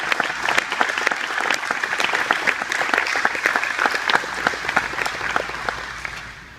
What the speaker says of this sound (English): so I'd like to take a moment to applaud Priya and all our other exceptional military spouses